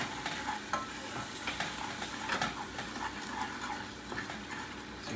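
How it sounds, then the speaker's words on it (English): Sugar for a blueberry pie filling boils in a pot, a faint, close, steady bubbling hiss with scattered small pops and ticks, with no talking. "So you see it's come to the boil."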